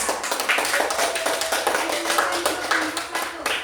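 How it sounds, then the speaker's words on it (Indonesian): Audience applause for group 1 after their presentation, a patter of separate claps with a distinct rhythm from a modest gathering, fairly close, with some talking underneath. "Beri tepuk tangan yang meriah"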